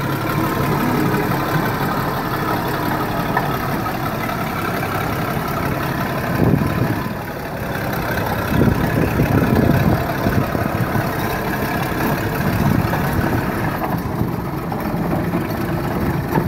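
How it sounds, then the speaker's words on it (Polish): A low, rough engine of a vintage Track Marshall crawler tractor idling steadily nearby, its rumble swelling slightly a few times as the revs shift. "Nasz kolejny traktor"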